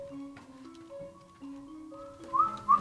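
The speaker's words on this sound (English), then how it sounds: "Innocent whistling turned into mischievous musical notes." A person whistles a simple tune, clear notes stepping up and down one after another, ending with a couple of brighter, sharper whistled chirps.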